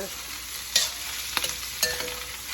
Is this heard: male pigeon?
no